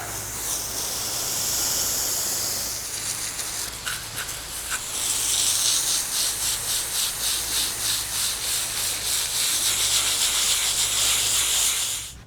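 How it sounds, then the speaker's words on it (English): Hose water spraying and rinsing mud and dirt off a butchered feeder pig. A steady, loud hissing spray with a brief break, then a wet, pulsing wash as the stream moves across the carcass. "Try not to get my scale too wet here, but we want to rinse him down good."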